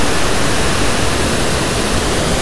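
Mountain creek in the Eastern Sierra near Onion Valley, flowing steadily with a loud, continuous broadband rush of water close by, unbroken for the whole span.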